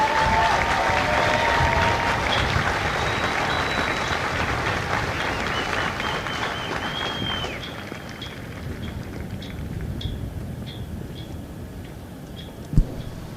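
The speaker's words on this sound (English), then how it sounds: "please join me in a round of applause for the company staff of Company L." A large crowd applauds at a Marine recruit graduation ceremony at a depot parade ground. The loud, continuous clapping gradually fades into a few scattered, isolated claps, with one sharp nearby clap near the end.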